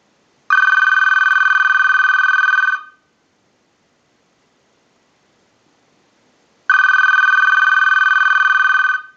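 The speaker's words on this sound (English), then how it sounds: "send a ring cycle like you were getting a call" An AT&T 2554 telephone bell rings in two loud, close bursts of about two seconds each, separated by a long silent gap, as an analyzer sends a ring cycle.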